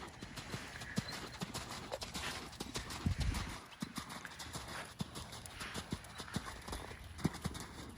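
A horse's hooves clip-clop steadily on the ground during jumping training, with occasional heavier thuds as it lands, moderately distant and fairly faint against outdoor background noise.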